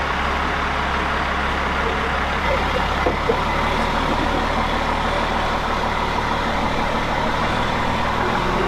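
A truck with a new Cummins engine, having its camshaft broken in, rolls along under its own power with a steady, loud, low diesel drone that holds evenly throughout.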